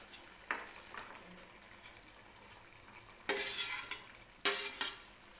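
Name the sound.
stirring fried paneer into matar paneer curry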